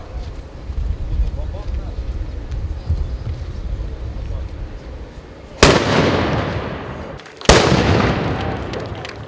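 Two loud, sharp booms from a ceremonial cannon salute about two seconds apart cut through a windy outdoor background, each followed by a rumbling decay.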